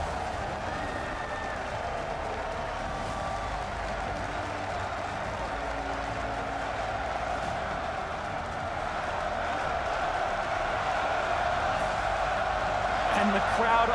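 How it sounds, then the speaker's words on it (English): A crowd on its feet cheering and applauding at a League of Legends esports playoff match, the NA LCS Summer 2016 third-place game between Immortals and Counter Logic Gaming; a steady dense roar of voices and clapping, swelling slightly toward the end. "And the crowd on their feet."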